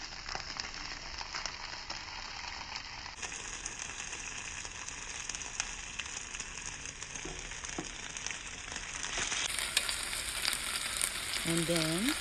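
Chicken inasal brushed with annatto seed oil sizzles on a preheated indoor grill, a steady, moderately quiet frying hiss with faint crackles and a few light clicks near the end.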